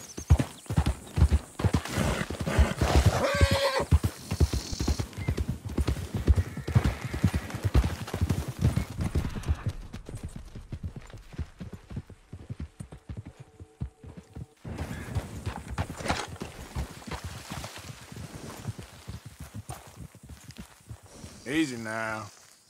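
Horse hooves clip-clop steadily in Red Dead Redemption 2, a close, rhythmic walking gait with occasional whinnies, mixed under game ambience and a brief spoken line.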